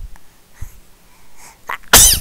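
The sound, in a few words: sneeze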